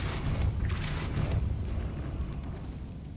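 A Depulso force spell cast in Hogwarts Legacy lands as a loud, rumbling blast with a creaking, mechanical edge, holding steady for a few seconds before cutting off.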